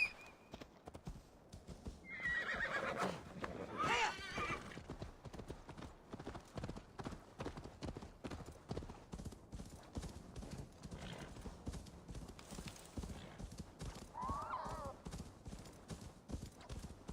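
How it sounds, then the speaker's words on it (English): Horse hooves clip-clopping steadily with occasional whinnies in Assassin's Creed Valhalla, a continuous rhythmic patter of hoofbeats at moderate level, with a louder burst of neighing early on and a person talking over it. "Horse."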